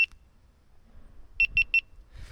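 A GoPro Hero 11 camera gives three quick, evenly spaced high-pitched beeps as it stops recording, after a single short beep at the start. The beeps are crisp and close over a near-silent background.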